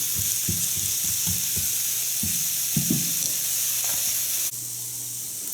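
Chopped sweet onion frying in a pan, a steady broadband sizzle with a few soft stirring knocks and scrapes, close and continuous, dropping slightly quieter near the end; no talking.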